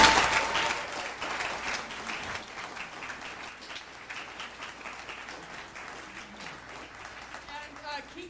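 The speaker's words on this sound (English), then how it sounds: "So now let us applaud and thank our candidates." Audience applause after a sustainability debate night, a dense sustained clapping that starts loud and gradually thins out over several seconds.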